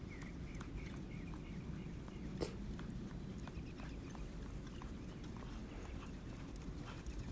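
A small filly trots out in a working trot, her hooves giving a steady rhythmic clip-clop at moderate distance, faint against outdoor background noise with an occasional bird or dog sound.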